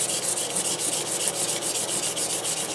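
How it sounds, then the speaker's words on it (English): A steady, rhythmic rasping scrape repeats as a razor blade is rubbed back and forth against an abrasive sharpening stone at about a 20-degree angle, close and continuous. "we're just going to take this and kind of use it like a sanding stone"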